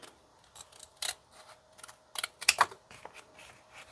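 Scissors cut paper for a junk journal belly band with a winter botanical theme, giving a string of crisp, close snips in uneven bursts, with a few louder cuts near the middle.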